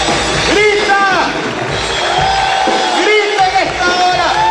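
A church congregation shouting and whooping in worship, loud overlapping voices filling the room while a preacher's amplified voice carries over them.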